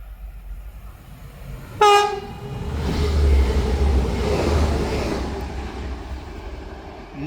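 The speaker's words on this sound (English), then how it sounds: "passing through now, we're gonna have a TransPennine Express service." A TransPennine Express train from Manchester Piccadilly to Hull passes through Heaton Chapel station on the WCML Manchester branch. It sounds a loud horn blast, then its wheels rumble and clatter as it passes close by.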